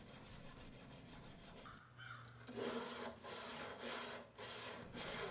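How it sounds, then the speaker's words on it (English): Hand sanding a hidden tang knife blade made from an old file, working up through 600 grit sandpaper, gives close, rhythmic rasping strokes, about five steady back-and-forth passes after a brief pause. "Now I'm going to hand sand the knife up through 600 grit."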